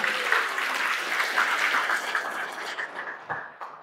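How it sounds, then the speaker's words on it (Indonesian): An audience at an indoor business seminar applauds, a dense burst of clapping that fades over a few seconds. "beri aplaus untuk kita semua"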